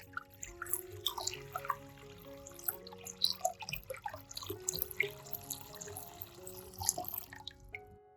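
Clean water running from a tap into a sink or bowl during lemon preparation, a continuous splashing trickle with bright drips, steady throughout and close by.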